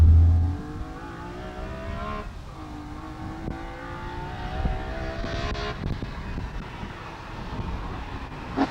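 BMW E46 M3 CSL engine on the move, a sustained mid-level drone with clear rising and falling harmonic tones as revs change, alone without talk.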